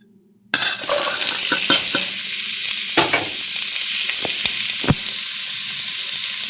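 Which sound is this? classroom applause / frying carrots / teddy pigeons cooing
frying carrots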